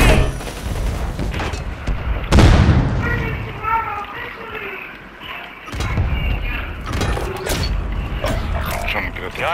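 A grenade blast in Call of Duty lands as one loud broadband burst amid game noise and gunfire, with voices talking over the chaotic action.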